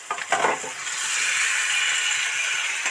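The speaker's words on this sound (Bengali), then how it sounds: "এবার এই ভাজা আলু আর কুমড়োটা দিয়ে দেব।" Fried potato and pumpkin pieces drop into hot oil and spiced masala, giving a brief clatter followed by a steady, loud sizzle and hiss.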